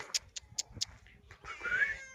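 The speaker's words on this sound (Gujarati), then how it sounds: "ભાઈ ભાઈ આપણી બિલાડી" A cat meows close by, several short, quiet mews in quick succession followed by a longer, rising drawn-out meow.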